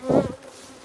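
Honey bees at the hive of a caught swarm give a brief, close buzz that swells and then fades within a second, alone without voices.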